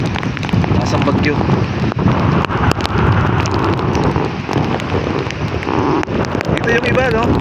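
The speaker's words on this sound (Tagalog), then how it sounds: "Lakas ang ulan. Lakas ang bagyo." Heavy typhoon rain and gusting wind batter a fishing spot in a loud, steady roar that never lets up, while people talk underneath.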